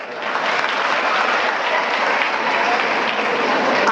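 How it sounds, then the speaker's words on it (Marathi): An audience at a Marathi motivational lecture breaks into loud, dense applause that swells quickly and holds steady, with no talking over it. "त्याच्यासाठी जोरदार टाळ्या वाजवा."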